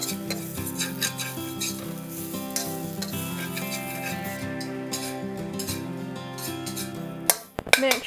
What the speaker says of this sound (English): Next, we are going to toast our coconut flake.